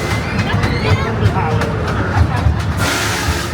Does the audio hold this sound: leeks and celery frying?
no